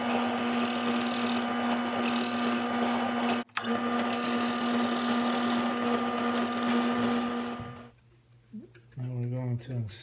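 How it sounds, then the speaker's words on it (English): A drill countersinks screw holes in a muzzleloader part, giving a steady, loud motor whine that runs for about eight seconds with one brief dip before stopping, after which a voice is heard. "I'm going to countersink for the screw head to go in."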